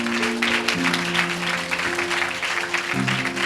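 A church congregation claps loudly and steadily through a worship service, the dense applause layered over sustained keyboard-like tones that shift pitch a few times.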